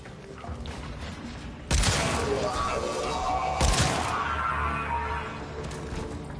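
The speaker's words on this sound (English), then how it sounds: "you guys may be able to hear the gunshots, but they can't, since I'm technically fully suppressed." Gunfire in the video game Warframe, with suppressed weapon shots. Sharp broadband bursts land at about 1.7 and 3.6 seconds over a dense, steady game soundscape, with a voice talking faintly underneath.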